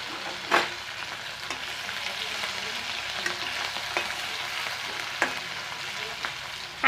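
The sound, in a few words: banana flower frying in hot oil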